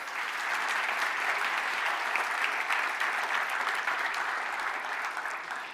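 Applause for a startup competition's jury members, a steady dense clapping from a large audience that holds evenly loud throughout, with no voices over it.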